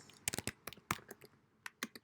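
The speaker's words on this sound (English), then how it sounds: "type Liang Wei inside, and so that's successful" Typing on a computer keyboard, with quick uneven bursts of close, faint key clicks and short pauses between them.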